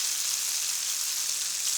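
Fish pakora frying in rapeseed oil gives a steady, close, even sizzle with a bright hiss, continuous and unbroken with no voices.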